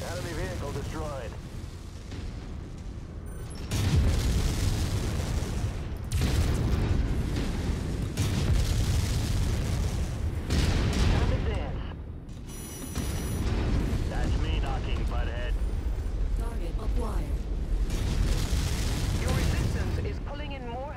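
Explosions from an enemy vehicle being destroyed in the mech combat game MechWarrior 5, heavy booming bursts and rumbling blasts repeating through the span, loud and dense, with game voice chatter over them.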